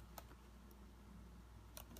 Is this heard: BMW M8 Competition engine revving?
no